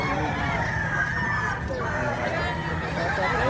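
Chickens and roosters at a Batangas poultry market, with dense overlapping clucking and fowl calls over a steady crowd hubbub that fills the whole stretch.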